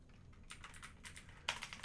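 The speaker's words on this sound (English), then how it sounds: "Here I am typing in Joker." Typing on a computer keyboard: quick bursts of close, crisp key clicks with short pauses between them, ending in a slightly louder flurry of taps, with no talking.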